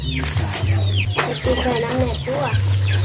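Chickens clucking nearby in a series of repeated short clucks and squawks, while a steady low hum runs underneath with brief gaps.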